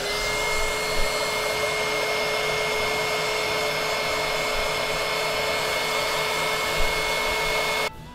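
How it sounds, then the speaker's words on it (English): A heat gun blows a steady, loud whirring hum while softening plastic skeleton fingers, running unbroken and close until it cuts off abruptly at the very end. "the heat gun works just fine. We're just melting it down just enough to pull those fingers up one at a time."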